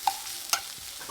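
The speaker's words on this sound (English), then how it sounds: "Gotta see if these bad boys can saute up." Food sautés in a pan, a soft steady sizzle close by, broken by two sharp clicks of a utensil stirring against the pan.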